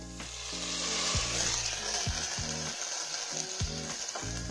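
A pan sizzles steadily with a bright hiss while being flambéed with calvados, and a low tonal hum pulses on and off beneath it.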